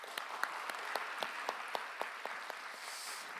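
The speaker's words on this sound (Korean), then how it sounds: "박수로 환영하도록 하겠습니다." A church congregation at a Sunday young-adults service claps to welcome a first-time worshipper, steady applause with distinct close claps over a broad crowd wash, fairly faint and with no talking.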